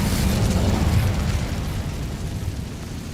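A fire spell, Incendio, bursts in Hogwarts Legacy as a loud, roaring whoosh of flame with a deep rumbling body that stays steady and then slowly tapers off, with no talk over it.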